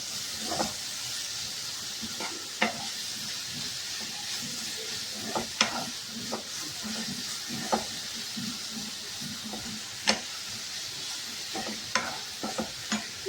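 Sweet chira (flattened rice) pulao being stirred in a pan with salt and sugar, a constant frying sizzle broken by repeated scraping clicks of the spoon against the pan, close and with no talking.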